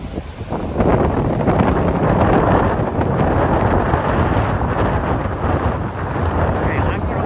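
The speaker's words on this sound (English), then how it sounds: "I hope you can hear me with the wind blowing the microphone." Strong gusts buffet a handheld microphone on the shore of Lake Chapala during high winds with big waves, a loud continuous rumbling roar with little letup across the whole stretch.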